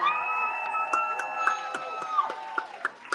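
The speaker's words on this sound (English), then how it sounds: "Give all of our panelists one more round of applause" Panel audience at a Chicago community event cheers and applauds, with whoops and high tonal shouts riding over scattered hand claps, steady and fairly near throughout.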